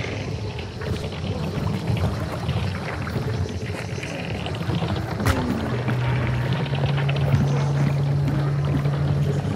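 A mill water wheel turning in the Hunt Showdown video game, heard from inside a house as a steady, loud churning rumble of splashing water and creaking, with a low hum emerging midway.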